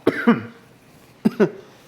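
A man coughs in two separate bursts, each a double cough, close and fairly loud, while stirring a pot of strong-smelling Louisiana seafood boil spices.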